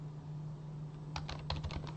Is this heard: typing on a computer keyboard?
yes